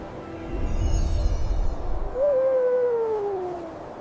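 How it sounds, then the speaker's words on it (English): A snowy owl gives a single drawn-out, wavering hoot that slides gently downward, heard close and alone after a low rumbling start. "It's a snowy owl."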